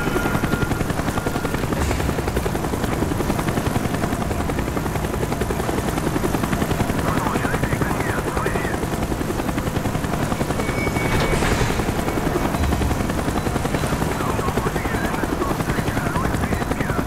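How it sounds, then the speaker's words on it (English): A helicopter from Call of Duty: Black Ops thuds overhead throughout, a dense, loud, unbroken rotor chop filling the scene, with faint voices underneath. "Avoid the helicopter spotlight."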